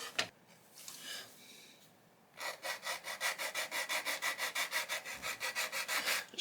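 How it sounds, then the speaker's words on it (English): Rhythmic back-and-forth sanding on the plastic hull of an AMT 1/350 Klingon Bird of Prey model kit, removing surface detail; after a quieter start, steady close strokes repeat about three to four times per second. "Just gonna try and sand these off, see how well that works first."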